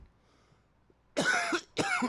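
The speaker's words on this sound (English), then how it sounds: "And I just coughed." Two short coughs from one person, close to the mic, the second following a brief pause, against a quiet background.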